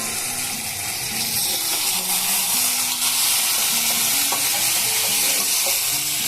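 Overnight-soaked peas and spices fry on a medium flame for ghugni, with a loud, dense, continuous sizzle and repeated stirring scrapes all the way through, close by and with no talk.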